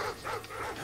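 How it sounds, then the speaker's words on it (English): Dogs in Modern Warfare 2 let out a quick pair of barks, close and fairly loud, over a rough background rumble. "I got those dogs off your back, Captain!"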